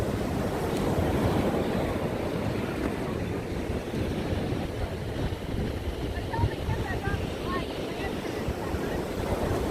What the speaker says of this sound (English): here is the beach